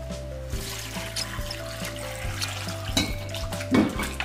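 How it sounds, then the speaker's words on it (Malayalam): Water is poured into a pressure cooker holding tapioca pieces, a soft trickling splash running over a steady low hum, with a brief louder clatter near the end. "എന്നിട്ട് സ്വല്പം വെള്ളം ഒഴിക്കുക."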